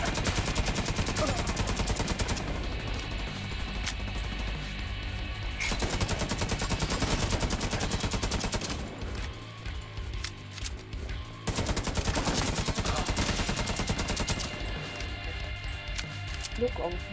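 Dense gunfire from the PS5 video game Tom Clancy's The Division 2, rapid automatic bursts and heavy shots rattling almost continuously at high volume, with players talking over the combat.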